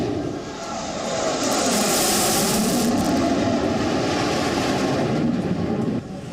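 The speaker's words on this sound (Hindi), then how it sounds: "आसमान में लड़ाकू विमानों की ये गर्जना सरहद पार दुश्मन भी सुन रहा होगा।" A loud, steady jet roar builds and holds, a broad rushing rumble of Indian Air Force fighter jets passing overhead, fading slightly at the end.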